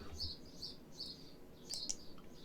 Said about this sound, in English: I'm getting heckled by the sparrows in the garden at the moment, if you can hear them.